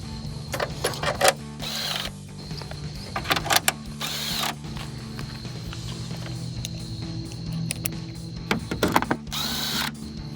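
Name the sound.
impact wrench loosening rusty bolts on RAM 1500 headlight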